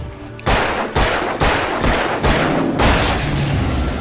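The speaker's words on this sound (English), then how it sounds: "it takes 6 revolver shots to take those guys down, and it seems like 2 rifle shots" Revolver and hunting rifle fire in the video game Alan Wake: a steady series of about eight loud, sharp gunshots roughly half a second apart, each booming and decaying, with no talk.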